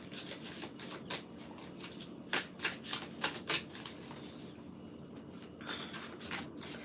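A deck of tarot cards is shuffled by hand, giving repeated soft riffling and sliding bursts in an irregular rhythm, close but quiet against a faint room hiss, with no speech.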